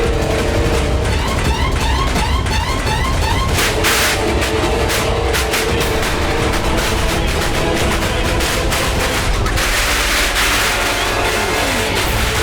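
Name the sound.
firecrackers exploding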